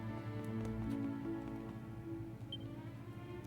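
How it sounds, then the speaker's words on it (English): Steady rain falls in the Dragon Quest VII Reimagined video game, a continuous soft hiss and patter that runs unbroken throughout under a low game music bed, with no speech. "there's no way that some evil petrifying rain just starts falling out of nowhere"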